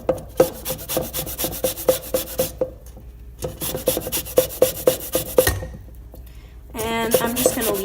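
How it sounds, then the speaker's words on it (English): A lemon is zested on a metal grater in a home kitchen while making cinnamon rolls, with quick rhythmic rasping strokes in close bursts, pausing briefly between runs before a final scraping flurry. "now we're going to zest 1 lemon."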